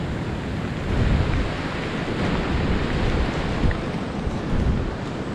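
Steady, loud rushing wind with a broad hiss of rain in the Philippine countryside after a typhoon, gusting slightly stronger at moments, with no voices.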